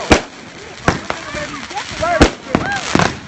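Fireworks bursting outdoors in the South: several sharp, loud bangs spaced about a second apart, with whistling and crackling between them as voices exclaim nearby.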